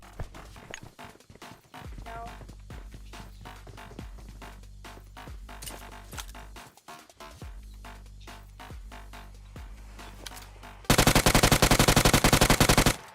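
Rapid automatic gunfire rattles in repeated bursts during a mobile battle royale game, then turns into a final loud, dense sustained volley.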